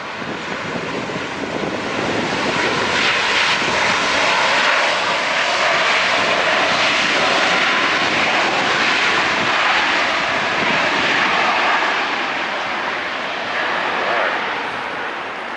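An ANA Cargo Airbus A330 jet arriving at LAX on the north side, a loud sustained engine roar with broad rushing noise that swells and holds as it passes close overhead.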